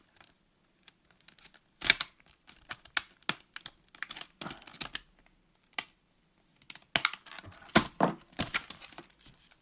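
Short crackling, ripping bursts come in irregular clusters, like sticky tape being peeled off a package, close up with quiet gaps between.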